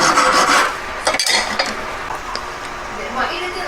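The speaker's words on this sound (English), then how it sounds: "So I've been filing this up now to got it to a stage where I'm happy to leave it" A hand file works the metal of a three-stone ring setting with claws for emerald-cut and pear stones, giving close, dry rasping strokes broken by a few brief clinks and taps.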